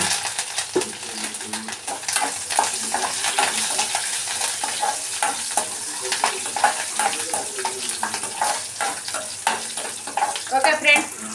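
Telugu tempering (popu) sizzles in hot oil in a pan, a busy close crackle with frequent sharp spatters and pops throughout, plus occasional clinks of a spoon against the pan, with no speech.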